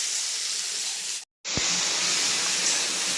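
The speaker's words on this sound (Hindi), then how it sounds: "अब टमाटर दे देते हैं इसमें, और इसे भी थोड़ा सॉफ्ट होने तक भूनते हैं" Onions and tomatoes frying in a pan, a loud steady hiss close by that cuts out briefly and then resumes at full strength.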